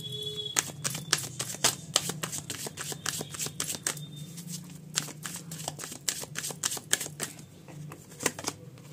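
Tarot cards being shuffled by hand close up, a dense run of quick papery riffles and flicks repeating steadily throughout, with no talking over them.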